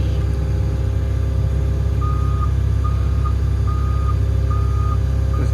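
Heavy machine with its hydraulic pumps running, a thick steady low rumble and drone, with a faint high beeping alarm pulsing at regular intervals over it, in rain.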